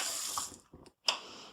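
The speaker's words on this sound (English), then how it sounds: "I do have to rinse the blade." Water from a kitchen tap splashing over a food processor blade as it is rinsed, a close bright rush that briefly breaks off and then resumes, no talk.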